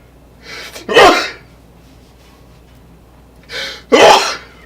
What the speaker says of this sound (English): That mahogany makes you sneeze.